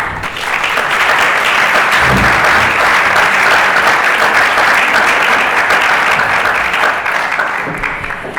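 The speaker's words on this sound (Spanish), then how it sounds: "Un fuerte aplauso para Engel" Sustained, dense applause from a lecture audience welcoming a speaker about Spanish Golden Age history and tarot, loud and even throughout, tapering slightly at the end.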